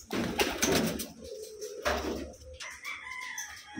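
A big gamefowl rooster crows nearby in a loud drawn-out call, followed by a second shorter crow. Other birds cluck and chirp faintly in the background.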